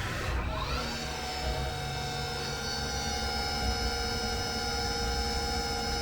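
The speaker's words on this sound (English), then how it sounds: "I'm going to run it maybe 1 inch above the part and air cut it" A machine runs an air cut about an inch above the part in a knife-making shop. Its spindle whine rises quickly at the start, then holds a steady, loud tonal hum with harmonics, up close and without talk.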